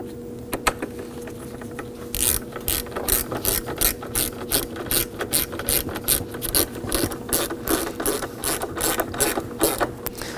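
A ratchet drives a Torx screw into the inner door of a 2001-2009 Volvo S60, a steady fast run of close, loud clicking pawl ticks lasting several seconds.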